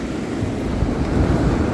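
Strong wind buffets the microphone in a steady, loud roar, with surf rumbling low beneath it.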